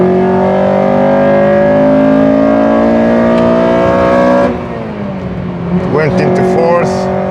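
A Honda K20 VTEC engine drones loud and steady in the cabin on the Nordschleife while its gearbox refuses to go into gear. Partway through the engine note drops and wavers, and a voice talks over it.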